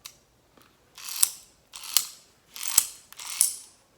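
An old adjustable auto wrench ratchets in four separate bursts of rapid close clicking, each swelling and fading, with short pauses between and no voices.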